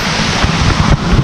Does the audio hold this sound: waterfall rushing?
yes